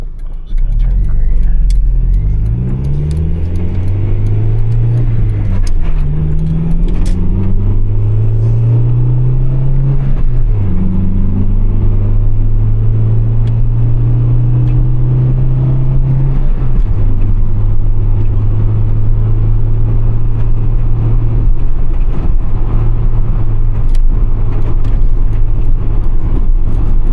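A 1995 Acura Integra DC4 with a manual transmission drives at night, its engine droning loud and steady with rising revs between gear shifts, close and continuous for the whole stretch.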